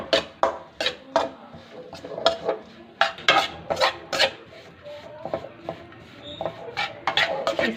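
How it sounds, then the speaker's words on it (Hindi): A spoon scrapes steadily through gram flour roasting in ghee in a pan for besan barfi, making rhythmic raspy strokes with clattering pan contact, up close and fairly loud, with no voices. "इसको हम अच्छे से भून लेंगे।"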